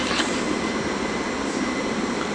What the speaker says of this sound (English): southern service from London Victoria to Reigate, formed of dual pairing of their 377 Electrostar units.